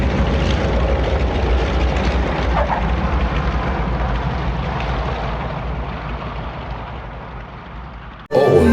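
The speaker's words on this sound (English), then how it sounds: "The plane is about to land, so sit still" Steady low engine drone inside a plane about to land, a heavy constant hum that slowly fades before an abrupt louder noise cuts in at the end, with no talking.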